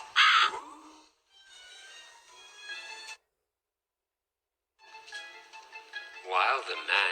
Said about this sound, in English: started calling to him as only crows can do